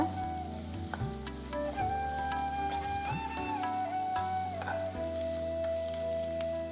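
Onions sizzle and sauté steadily in a pan over medium heat for prawn gravy, a continuous close frying crackle with occasional stirring scrapes and no talk.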